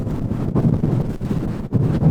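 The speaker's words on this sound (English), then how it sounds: "Pretty windy." Strong wind gusts outdoors at a large open sightseeing spot, buffeting the microphone in loud, continuous low rumbling blasts that swell and drop with brief lulls, with no voices.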